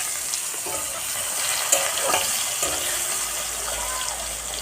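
Chopped onions frying in a pan for a fish curry give a steady hiss and sizzle with a few small pops and clinks, close and moderately loud, and no voice over it.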